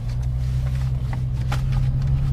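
A 2011 Mercedes-Benz W204 C300 RWD on H&R Super Sport lowering springs and 19-inch wheels cruises local streets, heard as a steady low cabin drone and road hum with faint tire noise.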